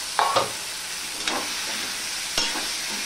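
Cut potato, papaya and pointed gourd stir-frying in a pan: a soft steady sizzle broken by a few distinct scraping stir strokes and clanks, close by, with no voices.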